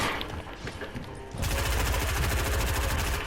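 Rapid automatic gunfire from the video game Fortnite, a loud dense burst of shots that grows heavier midway and keeps rattling to the end with no talk over it.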